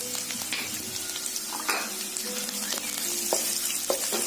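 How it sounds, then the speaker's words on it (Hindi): Onions, garlic and ginger sizzle and crackle steadily in a hot pan, with occasional scrapes of stirring and no voices. "और इसे अच्छे से हम भून लेंगे।"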